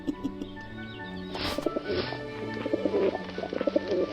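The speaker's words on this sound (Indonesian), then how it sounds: "Hei, merpati cerewet." A pigeon coos in short repeated throaty bursts close by, with a brief rustle or flutter partway through and faint background noise.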